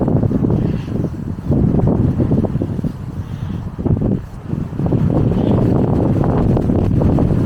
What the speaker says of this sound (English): I'm switching you off, it's too windy.